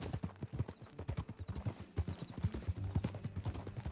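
Horse hooves clip-clopping in a steady trotting rhythm in Red Dead Redemption 2, close and clear over a faint outdoor backdrop.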